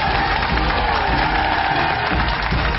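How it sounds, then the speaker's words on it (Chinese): Studio audience applauding as a couple walks on stage at a Chinese television dating show: dense, steady clapping filling the whole stretch at an even level, with no pause. "来，掌声请出这一对吧，来，掌声有请。"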